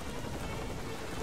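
Steady rain hisses and patters across the whole moment in Tomb Raider, a dense, even wash of drops with no talk over it.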